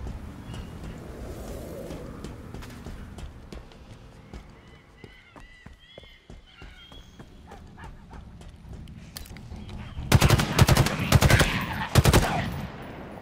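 Weapons fire in a Halo Infinite campaign battle at Outpost Tremonius: scattered, fairly distant shots at first, then a loud, close burst of rapid automatic fire near the end.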